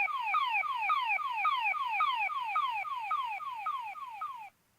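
A Gourai Changer / Navy Thunder Morpher toy lets out a repeating electronic siren of rapid rising whoops, steady and fairly quiet, fading slightly before cutting off abruptly.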